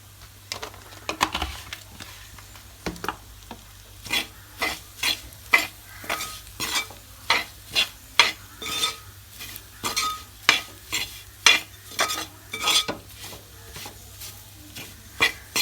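Masala is stirred in a hot pan for a beef tripe curry, a long run of rhythmic spatula scrapes and taps, close and fairly loud, over a faint steady sizzle with no talking.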